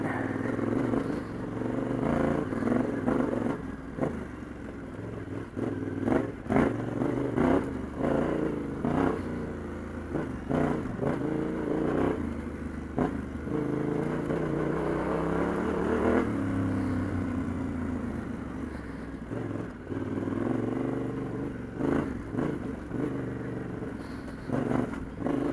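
Yamaha T7 adventure motorcycle crawling slowly through a rocky garden, its engine a steady low drone with uneven throttle blips and clattering over stones, continuous and fairly close.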